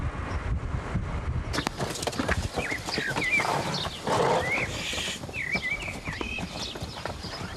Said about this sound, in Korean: 자동차 대신 당나귀가 짐을 나르는 모로코의 옛 수도 페스